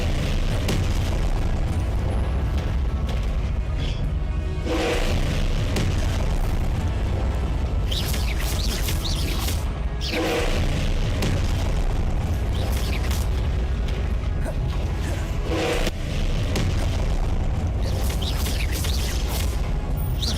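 The Confringo fire spell bursts in the Hogwarts video game, a dense roar of repeated explosive booms, with sharp blasts around every five seconds over continuous heavy rumbling.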